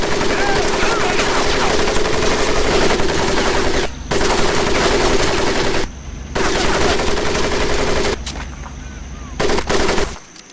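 Sustained machine-gun fire rattles loudly over a muddy Marine training pit in the video game Medal of Honor Pacific Assault, a dense continuous roar broken by a few brief pauses.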